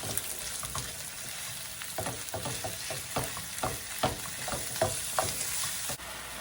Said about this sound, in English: add a pound of ground beef. Cook the beef until it's brown.